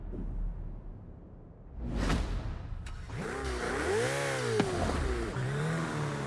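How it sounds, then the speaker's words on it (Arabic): A Ferrari in the video game Forza Horizon 5 starts up and revs, with a rising whoosh followed by a loud, sustained engine tone that climbs and dips in pitch, close and alone. "تاني عربيه نشتروها فيراري، يلا بينا نسمع الصوت"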